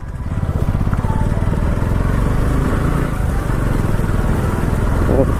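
A motorbike ridden off-road on a rough hill track in Jharkhand, wheels slipping, with a steady loud engine drone throughout and a faint voice underneath.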